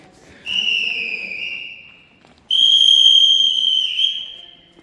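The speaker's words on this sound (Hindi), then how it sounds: "गार्ड साहब बेहतरीन सीटी मार रहे हैं, जाने का समय हो गया है।" A guard at Daulatabad Fort blows two long, loud whistle blasts, each held steady for about two seconds with a slight downward bend at the end, separated by a short pause.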